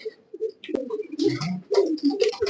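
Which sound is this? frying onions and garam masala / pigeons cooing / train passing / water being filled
pigeons cooing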